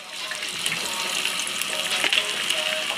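Potatoes fry steadily in hot oil, a dense crackling sizzle with bubbling pops, close and loud throughout without any voices.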